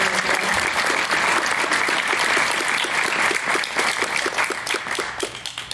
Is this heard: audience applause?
yes